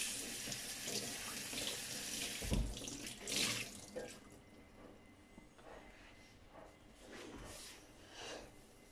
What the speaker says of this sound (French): Alors attendez, je vais rincer.